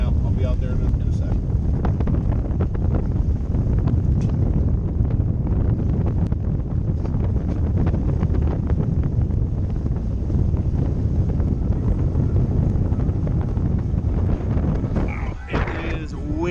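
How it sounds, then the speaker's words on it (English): Strong wind buffets the microphone in a constant, heavy roar aboard a boat at the mouth of a canal, with faint water and boat noise underneath throughout. "It is windy out here today."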